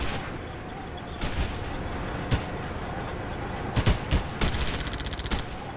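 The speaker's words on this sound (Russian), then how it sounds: "Выстрел." Gunfire rings out in the World War II strategy game Theatre of War during the Battle of Moscow. Scattered sharp shots and a rapid burst crack over a constant rumbling battle din.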